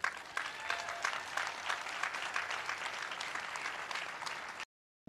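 Audience applause and cheering at the opening of a school in Ohio, a steady dense crowd clapping that holds evenly for several seconds before cutting off abruptly.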